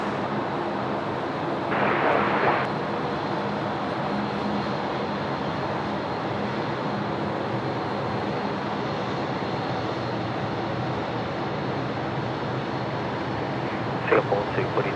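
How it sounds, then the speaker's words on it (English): A UPS Boeing 747 freighter takes off on runway 16 right at Sydney Airport during heavy night rain, its steady broad engine roar held level throughout under constant rain hiss, with a short louder burst early on. "UPS is now rolling runway 16 right. This is the 747 freighter."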